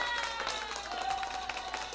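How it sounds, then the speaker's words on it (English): Short hand-clap sound effect playing on a gaming livestream, a steady patter of claps running for a couple of seconds over a bright tonal backing. "him and Tyler both get the hand claps."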